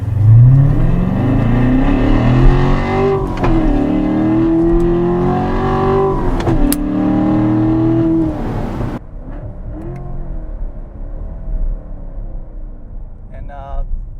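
A 2014 Chevrolet Corvette Stingray engine in track mode revs loudly and steadily, rising through blips with automatic rev matching, then drops to a lower rumble; a voice talks over the engine.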